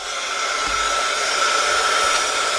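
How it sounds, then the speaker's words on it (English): Heat tool steadily blowing hot air over embossing powder to melt gold embossing on a Christmas card, a close, continuous loud hiss-whoosh with no pauses. "Use the heat tool and emboss it."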